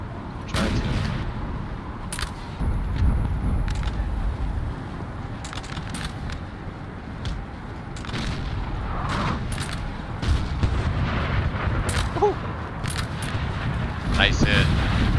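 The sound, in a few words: cannon artillery fire, from a video game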